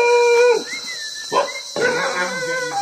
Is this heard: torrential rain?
no